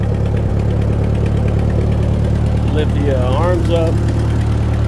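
An 80-year-old Ford 2N tractor engine runs in a loud, steady, close idle with an even low rumble and a faint knock, while a person talks over it.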